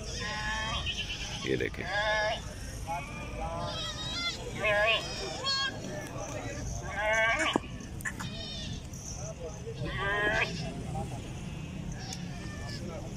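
A large goat at the Shahpur Kanjra goat market bleats over and over in loud, wavering calls. Someone talks throughout, with market chatter in the background.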